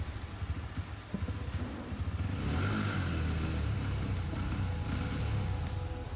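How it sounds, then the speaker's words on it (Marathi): A Honda CB125 Hornet with a refined 125 cc engine runs steadily, its low, even firing thrumming close and continuous and growing slightly louder partway through. "गाडीची फायरिंग पहा."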